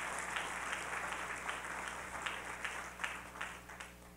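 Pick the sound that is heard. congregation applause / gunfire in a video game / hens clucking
congregation applause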